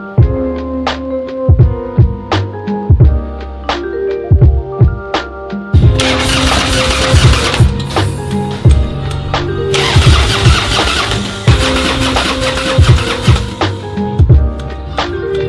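Motorcycle being cranked over and over without starting, a repeated starter whir in short bursts, then louder sustained engine noise in stretches, close and loud.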